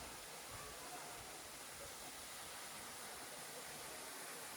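Pareso Falls, a waterfall in the mountains near Ulsan, South Korea, gives off a constant, even roar of rushing water, heard at a moderate distance and unbroken for several seconds.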